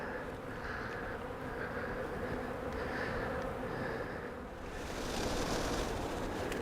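Honeybee swarm during capture, a dense continuous buzzing of many bees close by, swelling louder near the end, with no talking.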